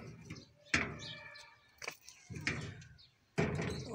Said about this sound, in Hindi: मैं तब तक हवेली का दरवाज़ा बंद कर ले तो उनके चूजे वगैरह बाहर ना आ जाए